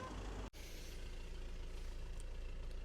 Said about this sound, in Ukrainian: Двигун запущено, діагностика підключена.